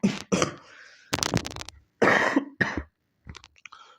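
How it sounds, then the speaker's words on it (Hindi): Teacher with a cough and hoarse throat during a lesson, coughing in several sharp, close bursts separated by short pauses, each followed by a throat-clearing rasp. "सॉरी थोड़ा खांसी चल रही है जिसकी वजह से गला भी बैठा है।"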